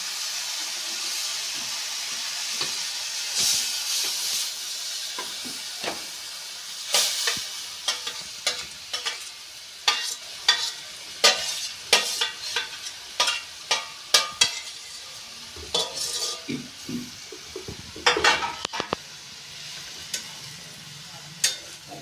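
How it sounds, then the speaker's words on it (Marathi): Spring onions with masala and peanuts stir-fried in a pan: a steady low sizzle with repeated scraping stirs of a spatula, clinks growing sharper and more frequent toward the end. "कांद्याची पात परतळलेली आता त्याच्यामध्ये मसाला टाकायचा मसाला टाकायचा परतळून घ्यायचा शिकदाणे टाकायची"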